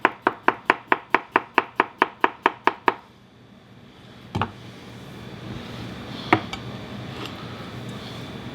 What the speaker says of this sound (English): Then I'm going to slice them nice and thin.